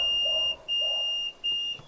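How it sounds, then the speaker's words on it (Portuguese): A flood sensor alarm on a boat's engine room panel beeps, three long, piercing electronic tones with short gaps between them, loud and close with no voices. "E aí você tem um alarme sonoro no painel, simulando a inundação da casa de máquina."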